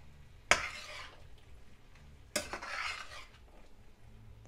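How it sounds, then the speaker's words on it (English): A spoon stirring vegan taco filling of coconut aminos and hot sauce in a pan, two distinct scraping strokes with a soft clatter against the metal, quiet and close with a faint low background hum. "Keep stirring, letting all the flavors meld together."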